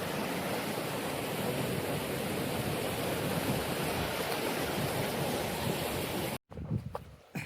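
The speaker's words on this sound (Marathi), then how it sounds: "बघू शकता किती असा पूर चालू आहे गिरणा नदीला" Flooded Girna river rushing under a bridge, a steady broadband roar of fast-moving water, loud and continuous, ending with a short cut to quieter outdoor sounds.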